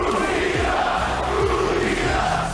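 A wrestling arena crowd roars and chants together in a continuous loud, dense wash of many voices, with rising group shouts and no single speaker standing out.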